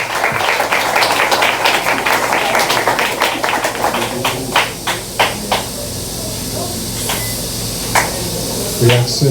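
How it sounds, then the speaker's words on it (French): A church congregation applauds with sharp, close claps over a humming room tone. The clapping is dense at first, thins into a few scattered claps, and then stops. "Et applaudissez pour le Dieu."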